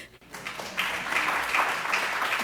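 Audience applause at a symposium, a broad wash of clapping that rises after a short pause and holds steady at moderate loudness for a couple of seconds, fairly near with no voices.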